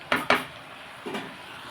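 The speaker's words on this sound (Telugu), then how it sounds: "ఇప్పుడు మనం మూత పెట్టుకుందాం" A metal lid set onto a pot of spinach cooking on the stove: two quick clinks close together, then a softer knock a moment later, close and clear.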